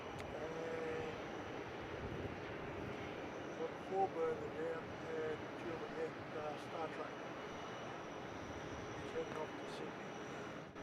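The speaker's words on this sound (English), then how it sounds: "corner 737 inbound here. This is Qantas 158 coming in from Auckland" Qantas Boeing 737, flight 158 inbound from Auckland at Melbourne Airport, a faint continuous jet engine roar at a distance, steady throughout with a brief louder swell near the middle.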